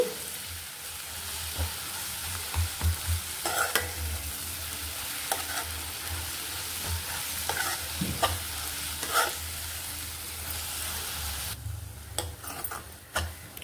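Gongura leaves frying in oil on a medium flame for a chicken pickle, a continuous sizzle with repeated spoon stirring and clinks that goes briefly quieter near the end, no talking.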